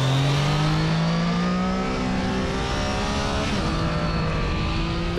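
A 2021 Triumph Trident 660 triple-cylinder motorcycle engine revving high, a loud close rising whine that climbs in pitch, levels off and rises again without any speech.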